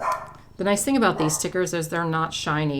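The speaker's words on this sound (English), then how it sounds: "Sorry for the barking." A dog barks in quick repeated bursts close by, overlapping someone talking about planner stickers at a desk.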